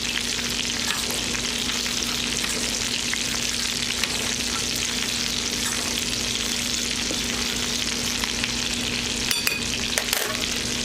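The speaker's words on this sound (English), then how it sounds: "Take your fork and get those well mixed" A fork stirs dry ingredients such as flour, baking powder and salt in a bowl, making a continuous close scratchy rustle that holds steady for several seconds with no talking.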